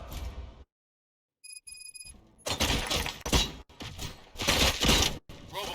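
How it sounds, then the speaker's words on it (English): Gunfire in the video game RoboCop Rogue City: after a short silence and a faint electronic chime, sharp cracking shots and clattering impacts burst out in irregular volleys, loud and close. "Gunshots? What's going on?"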